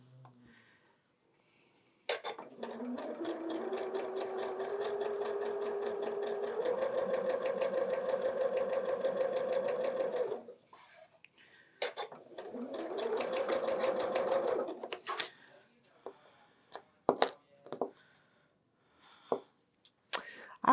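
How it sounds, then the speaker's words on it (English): A sewing machine stitches quilt block pieces for alphabet blocks in two runs, a long steady whirring run of about eight seconds and a shorter second run, followed by scattered clicks and handling sounds. "And we're going to sew this."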